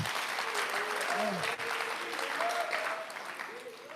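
Audience applause at a graduation ceremony, a steady wash of clapping held for the whole stretch, with voices calling out faintly underneath before it tapers slightly at the end.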